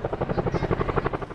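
A military helicopter's rotor chops in a fast, steady pulse, loud and close, with engine whine underneath and no speech.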